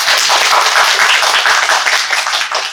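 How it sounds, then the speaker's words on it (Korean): An audience at a stenography lecture claps for two police stenographers, giving a short burst of dense, loud applause that fades slightly at the end. "박수 한번 주시고"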